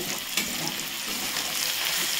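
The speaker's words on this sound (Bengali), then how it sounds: "তো পেঁয়াজটা ভাজছি" Onions fry in oil in a pan for a cabbage and shrimp dish, giving a steady, dense sizzle and crackle that runs unbroken throughout.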